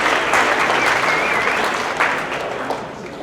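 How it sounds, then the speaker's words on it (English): Audience applause at a monthly company celebration, a dense steady patter of many hands that gradually fades toward the end of the short burst, heard on its own. "if you'll hold your applause"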